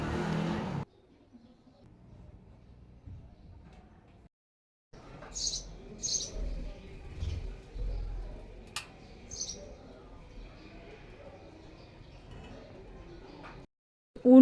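House sparrows chirp in short, scattered bursts outdoors, faint and fairly distant over low background rumble, with long quiet gaps between calls.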